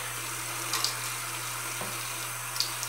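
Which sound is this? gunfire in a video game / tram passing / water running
water running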